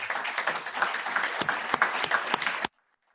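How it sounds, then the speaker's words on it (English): Luncheon audience applauding airport authority staff as they stand, a dense, steady round of clapping that stops abruptly near the end, leaving near silence. "I'd ask you to join me, give them a round of applause."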